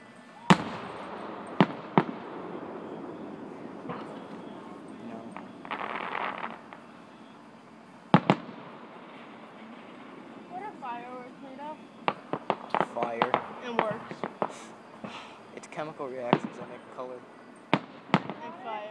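Fireworks pop and bang sharply at irregular intervals, some distant crackles between louder blasts, while people chatter and exclaim throughout.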